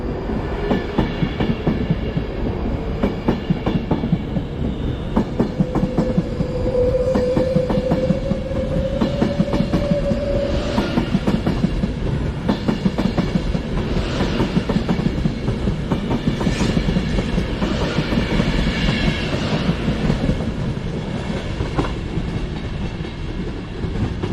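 An Avanti train departs Preston station, its steady rumble and clickety-clack of wheels on rail joints filling the scene continuously, with a brief tonal squeal early on as it pulls away.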